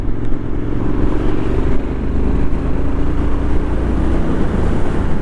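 A 2025 Triumph Scrambler 900 motorcycle engine drones steadily while riding, a loud continuous hum with a rushing wind buffet over it.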